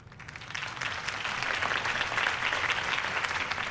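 Sustained crowd applause in the Batman Telltale video game, dense and steady, swelling in quickly and continuing at a strong level throughout.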